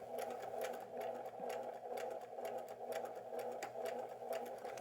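Sewing machine stitching steadily across a quilt seam intersection during precision piecing, a continuous close mechanical whir with fast rhythmic needle ticks throughout, no voices.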